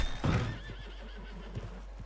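A horse in the Red Dead Redemption 2 video game gives one loud, close whinny at the start, followed by soft hoof clip-clops over a low steady hum.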